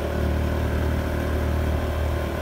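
A small 110cc motorcycle engine carrying two riders on a rising road strains at a constant, droning pitch, close and loud throughout with no pauses.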